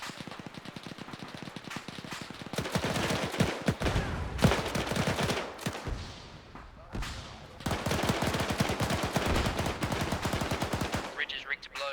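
Rapid machine-gun bursts rattle in a WWII video game battle, with dense sustained fire broken by brief pauses and a sharp louder shot mid-way, close and loud throughout.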